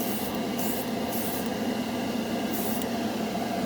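Model Master Metalizer spray paint hissing from an aerosol can in one continuous, steady burst, close and fairly quiet, with no talking.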